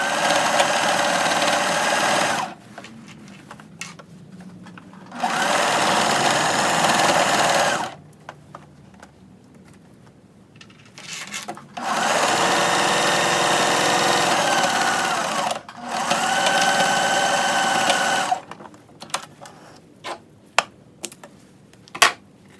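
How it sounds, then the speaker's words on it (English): A sewing machine stitches quilted jacket fabric in several bursts of steady mechanical whirring, each lasting a few seconds, separated by quiet pauses with small clicks and handling noises. "so now we are going to the sewing machine"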